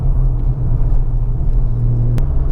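A 1JZ-powered Lexus IS200 rumbling nearby with a low engine drone, then a brief sharp turbo flutter burst near the end, loud and close with no talking.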